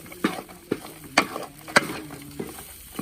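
Garlic rice is mixed in a pan with butter, egg and oil; a few sharp scraping clicks of a spatula land at uneven intervals over a faint, quiet background.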